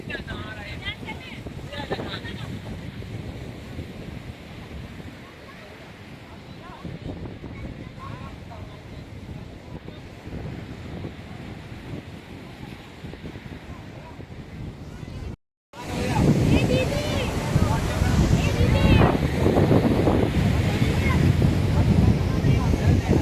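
Rough, churning sea at Dwarka on the Gujarat coast, a continuous loud wash of surf buffeted by heavy wind noise, with a short cut and then even louder crashing water; people talk intermittently.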